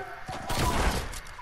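A single loud, crackling burst of gunfire in a shooter video game swells briefly and fades within a second.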